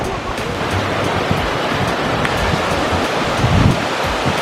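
A main waterfall in Palampur pouring into a small pond, a loud, steady broadband rush close by with slight wind buffeting, no voices heard.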